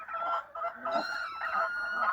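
Newly arrived domestic geese in a farmyard honk together in a continuous, nasal, close chorus that is loud and steady for a couple of seconds, with no speech over it.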